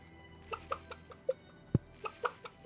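Chickens cluck in a Stardew Valley farm scene: a handful of short, soft clucks and chirps scattered irregularly over quiet background music, with one sharper thump partway through.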